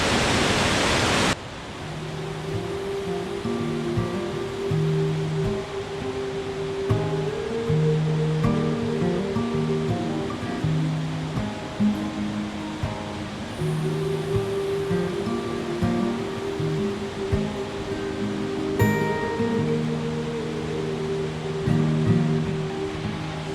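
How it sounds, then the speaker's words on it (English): Steall Waterfall in Scotland rushing steadily, a broad constant roar of falling water heard at a distance, with a faint melodic tone running over the top. "There was Steall Waterfall, the little detour before we head back."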